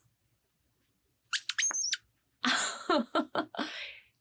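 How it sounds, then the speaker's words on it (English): High squeaky whistles followed by a burst of chirping, clicking pulses, fairly loud and close, alternating with short silences. "do you know what sound an orca makes?"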